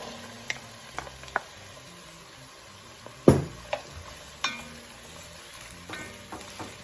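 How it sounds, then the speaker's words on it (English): Celery and carrots sautéing in a pot after onions and garlic for chicken and dumplings, a quiet low sizzle broken by sparse clicks and one louder clank of a utensil against the pot. "I'm gonna saute these around for about maybe 5 minutes"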